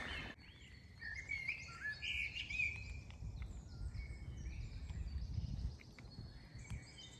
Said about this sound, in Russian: Как птицы волшебно поют в этом сказочном лесу.